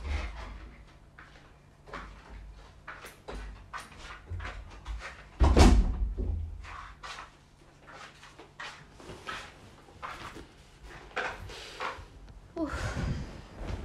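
A door creaks and knocks as someone enters, with a series of clattering thumps, one louder bang near the middle, and shuffling movement throughout at close range.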